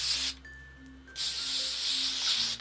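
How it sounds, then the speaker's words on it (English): Two bursts of hissing spray from a can of medium-hold hairspray, close by, separated by a short pause. "Just a very, very light spray."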